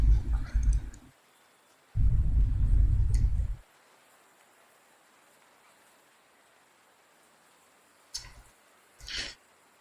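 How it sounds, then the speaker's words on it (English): Thunder from a storm outside rumbles in two deep, heavy bursts, the second longer. A quiet stretch follows, broken by a few faint clicks and soft knocks. "There's a thunderstorm going on outside."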